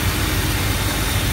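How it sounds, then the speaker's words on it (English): Chevrolet 350 V8 in a square-body truck with an Edelbrock carburetor idling: a steady, close, low rumble with a slight pulsing beat and no voices. "I need to adjust the idle on the choke, but it is idling"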